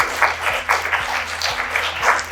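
Audience applause at an SPM 2022 exam-preparation event, steady crowd clapping sustained throughout at moderate loudness, with a faint low repeating background tone underneath.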